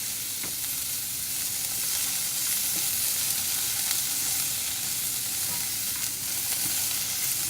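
Bitter melon and other ingredients for goya champuru stir-frying in a pan, a loud, continuous close sizzle with occasional soft stirring scrapes throughout.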